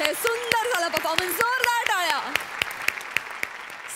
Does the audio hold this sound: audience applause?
yes